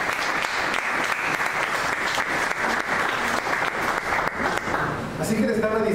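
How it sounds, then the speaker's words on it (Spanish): Congregation in a Spanish-language church service giving loud, sustained applause, dense steady clapping filling the space for several seconds before tapering off at the end. "Denle una ofrenda fuerte de palmas."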